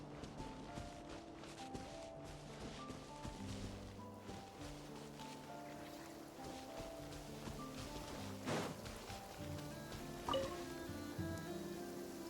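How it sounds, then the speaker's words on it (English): Rain falling in the video game Genshin Impact, a faint steady patter heard under soft game music. "Nice. I like the rain."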